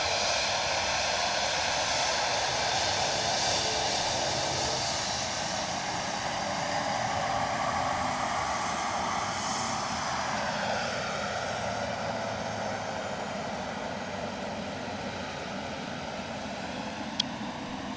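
An aircraft at Edinburgh Airport gives a steady, broad engine roar heard from a distance, shifting slowly in pitch as it moves, with a brief click near the end.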